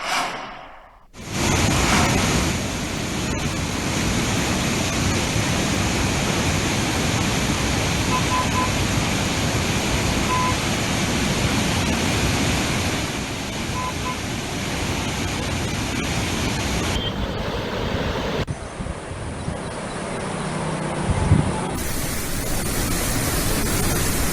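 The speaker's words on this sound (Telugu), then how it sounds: "భారీగా వస్తున్న వరదతో పన్నెండు గేట్లు ఓపెన్ చేసి దిగువకు నీటిని విడుదల చేస్తూ ఉన్నారు" Heavy floodwater released through twelve open gates of the Jurala reservoir dam, a dense continuous roar of rushing water that stays loud and steady throughout, with no voices over it.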